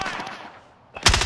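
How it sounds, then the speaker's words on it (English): Gunfire in a video game firefight bursts in loudly near the end as a dense, sharp volley of shots after a quieter stretch of ambient noise. "I'm taking fire!"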